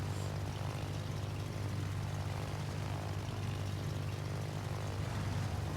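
Steady propeller aircraft engine drone from carrier planes in World of Warships, a constant even hum without breaks at moderate level, no voices.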